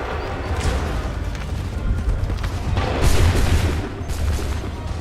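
A ragged volley of musket fire from a battle in Assassin's Creed 3 sounds as several overlapping booming shots over a rumbling battlefield din, with a heavier burst partway through.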